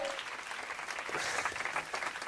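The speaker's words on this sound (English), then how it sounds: "Round of applause for the streaker" A crowd applauds a streaker at a live event. The clapping is dense and sustained for a couple of seconds and grows slightly louder toward the end.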